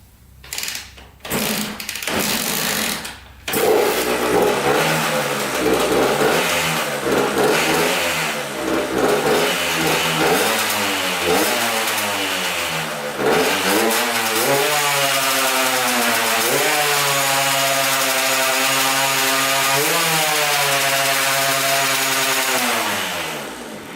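A Honda CR80 two-stroke dirt bike, a cheap find of unknown condition, coughs a few times, then catches and revs up and down repeatedly before settling into a steady buzzing rev, loud and close.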